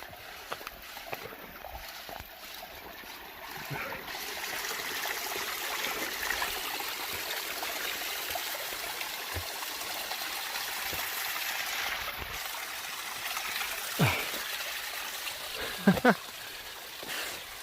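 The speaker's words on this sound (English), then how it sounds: "The water is creating the perfect background soundtrack." Steady broadband rush of a creek flowing over shale in Shades State Park, Indiana, with occasional faint knocks and scuffs close by.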